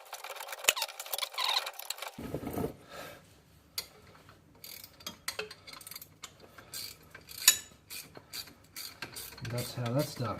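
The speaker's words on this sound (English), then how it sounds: "Put in the ratchet spanner." A ratchet spanner works on a Db52t front differential, clicking in short irregular bursts with pauses between, close and fairly quiet, amid small mechanical clatter.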